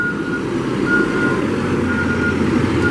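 A 2014 Caterpillar 420F IT backhoe loader with a 4-in-1 bucket and third valve works and drives nearby. Its engine drones steadily and loudly throughout, with an intermittent reversing beep sounding over it.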